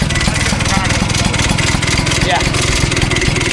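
An Elan engine runs at a steady, close idle with an even rhythmic chug, while a voice briefly speaks over it.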